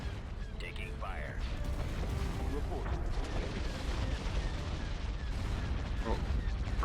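Ship weapons firing during a Star Wars space battle in Empire at War's Thrawn's Revenge mod, a dense continuous rumble of blasts and booms with scattered laser zaps, steady and loud throughout, with voice chatter mixed in.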